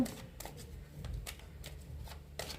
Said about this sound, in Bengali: আরও একটা কার্ড নেব।